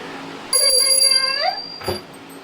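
A single bright brass puja bell rings out clearly, its tone lingering about a second before fading, followed by a brief voice.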